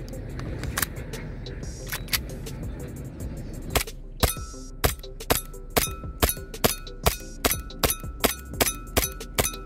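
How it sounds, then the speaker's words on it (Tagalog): Pellets from a WE Kimber 1911 airsoft pistol strike a full liquor bottle, sharp clinking impacts that start irregular and settle into a steady fast rhythm of about a dozen near, crisp hits over a faint background hum. "Tignan natin kung kaya bang basagin itong bote ng Alfonso na to na may laman pang alak mismo."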